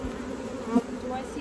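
Steady, close buzzing hum of many honeybees around an open hive during a queen search, continuous and even throughout the brief stretch.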